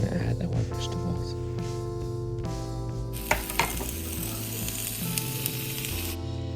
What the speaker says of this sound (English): Then we're gonna start doing the stir fry.